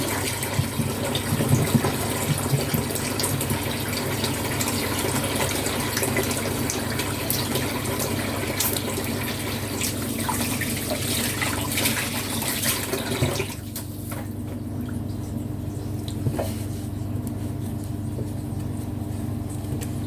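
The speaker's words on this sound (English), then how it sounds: "gotta wash my hands" Water from a kitchen tap runs steadily as hands are washed beneath it, a close, continuous gushing splash that drops to a softer, thinner flow near the end.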